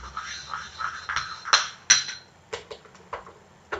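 Homemade lipstick mixture being stirred in a small container, with light clinking and scraping taps that come irregularly, close up and fairly quiet.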